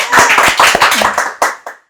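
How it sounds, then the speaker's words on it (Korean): A small audience at a book talk claps briefly, a short burst of several distinct hand claps that quickly tapers off to a couple of last isolated claps and silence. "박수"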